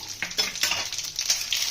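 Sharp crackling sizzle of nigella seeds hitting hot oil in a wok, steady and close, with a few stirring scrapes and no talking.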